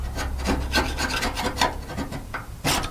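Paint being scraped off the metal body of a 1967 Mustang after light heating with a propane torch: close, steady, rasping strokes repeated in a quick uneven rhythm, with no voices.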